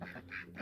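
Ducks quacking on a farm, three short bursts in quick succession, fairly close and moderately loud.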